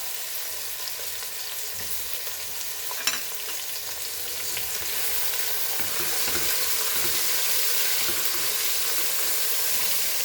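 Onion and tomato fry in a pan for a Goan beef pulao, giving a steady broad hiss that grows slightly louder, with a few stirring scrapes and a sharp clatter partway through.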